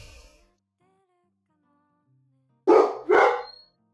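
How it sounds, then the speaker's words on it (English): Two sharp dog barks come in quick succession, loud and fairly close, after a mostly quiet stretch. "The dogs are so loud."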